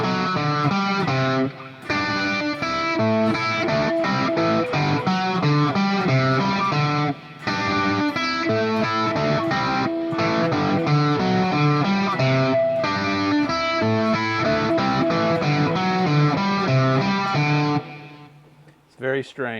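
Distorted electric guitar plays a riff, a fast, dense, continuous run of notes lasting nearly twenty seconds with only brief gaps, loud and close, ending abruptly.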